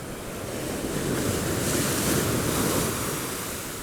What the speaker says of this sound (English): The waves do look beautiful though.